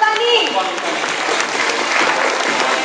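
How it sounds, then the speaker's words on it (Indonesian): An evening audience at a business talk applauds a speaker, a full, even burst of clapping that stays loud and close throughout. "Wow, tepuk tangan buat Mr. Anwar Butani."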